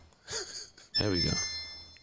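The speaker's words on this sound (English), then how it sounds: "We got a phone call" A telephone rings with a bright, repeating bell-like tone, loud and close, with a gasp and voices in the room around it.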